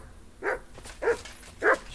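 Three evenly spaced barks from Mott, the dog in the video game Kingdom Come Deliverance II, each short and punchy at moderate volume against a quiet background.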